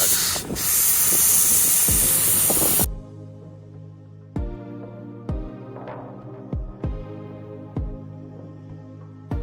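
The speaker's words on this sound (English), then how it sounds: "I'll air the tires down to about 20 psi and it will help us get out of here." Air hissing out of an RV's tire as it is deflated to about 20 psi in Baja: a loud, steady rush for about three seconds that cuts off sharply, followed by a series of quiet rhythmic clunks.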